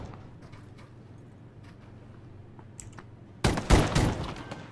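Video game gunfire: a quiet stretch of faint background noise, then a sudden loud burst of rapid shots near the end.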